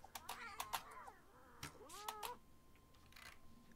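Cat meowing in the video game RimWorld: several short, bending meows in quick succession, then a few more after a pause, fairly close with a faint background hum.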